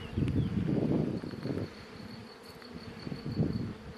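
An aggressive honeybee colony buzzing in the hive, swelling in loud surges close by, then easing before rising again.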